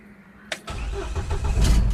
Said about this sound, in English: And let's quickly turn on the vehicle now.